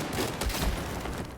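Shotgun fire in the video game Battlefield 4, a dense burst of loud, close, noisy blasts lasting just over a second.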